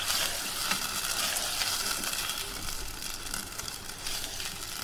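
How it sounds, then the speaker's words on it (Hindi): Beef pieces frying in onion paste for a bhuna masala, a dense continuous sizzle with faint stirring scrapes, close and steady throughout. "इसके अंदर मैं गोश्त शामिल कर दूंगी। इसे भी हम पेस्ट के साथ अच्छे तरीके से भूनेंगे गोश्त को।"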